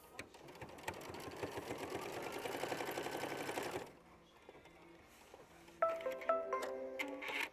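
An embroidery sewing machine stitches a sampler bouquet block, a dense, steady rapid clatter up close for several seconds, then a pause with soft mechanical clicks before sharper ticking and whirring resumes.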